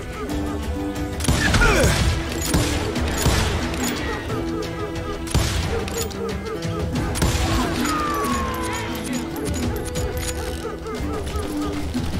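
Gunfire in a Wild West shootout from the video game Call of Juarez: Gunslinger comes as repeated sharp shots and bursts, some clustered closely together, over a sustained musical backing.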